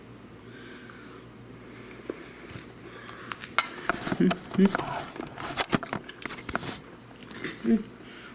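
Cutlery scrapes and clinks against a plate of Minnesota tater tot hot dish, a run of close, uneven clatters and taps, with a little eating and a voice briefly heard.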